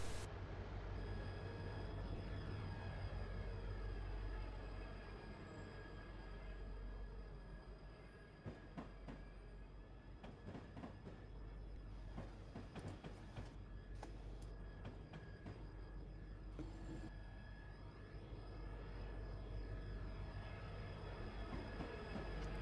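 An SD40-2 diesel locomotive engine in a train simulator video game drones steadily with a low rumble, accompanied by rail clatter and scattered clicks and squeals throughout.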